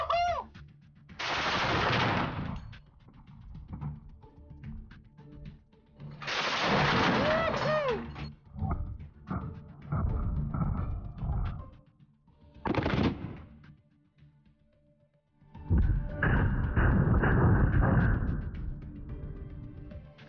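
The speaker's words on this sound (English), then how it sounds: "Я нажму на гашетку и проверю сейчас дуб на прочность." A machine gun fires long bursts at an oak tree outdoors, loud and close, with several separate volleys broken by gaps and brief talk in between.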